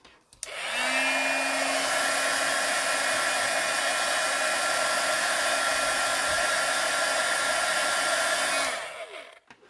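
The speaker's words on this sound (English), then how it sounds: "I'm just going to gently dry this with the heat gun" A heat gun drying embossing ink on a Christmas card, a loud, steady blowing whir that starts abruptly, holds evenly for about eight seconds and then cuts off, with no talk.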